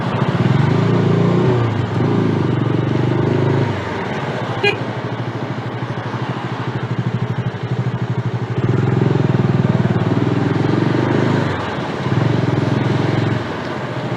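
A motorcycle filtering between lanes of traffic, its engine droning loud and close throughout, rising and falling with throttle changes, with surrounding traffic noise.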